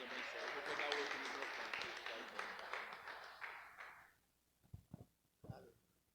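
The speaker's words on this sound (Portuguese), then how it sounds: "Aplauda mais uma vez ao Senhor." A church congregation at a couples' gathering claps in praise, a lively burst that fades after a few seconds, leaving scattered taps and a faint voice.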